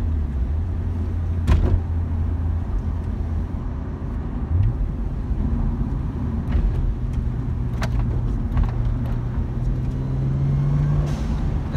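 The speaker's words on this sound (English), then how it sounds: "The car's not too loud as well, the exhaust, the cat-back is really nice and smooth." A Nissan Skyline R34 GT-T with a cat-back exhaust rumbles smoothly and steadily nearby, a low continuous engine drone with a few faint clicks and knocks over it.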